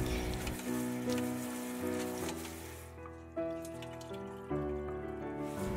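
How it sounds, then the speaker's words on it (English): Cooked noodles being drained and rinsed under cold running water for Korean soy sauce noodles, a steady splashing stream under prominent background music. "So drain out the water and rinse them in cold water several times."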